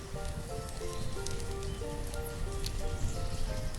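Rain falls in the village-building game Banished, a steady dense patter and hiss of drops on surfaces over a soft musical tone, with no talk.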